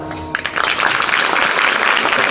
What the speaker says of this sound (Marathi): एकदा टाळी वाजवा ना